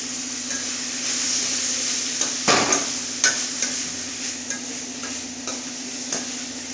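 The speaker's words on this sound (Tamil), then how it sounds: "தேங்காய் போட்டு நல்லா கிளறி விட்டுடலாம்" Grated coconut being stirred into a cluster bean stir-fry in a hot pan, a steady sizzle underneath with several scraping and clanking stirs of a spoon against the pan, close and moderately loud, no talk.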